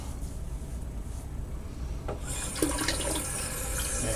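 Warm water from a bathroom sink tap during a double-edge razor shave: a quiet room for about two seconds, then the tap opens and a steady splashing flow fills the rest.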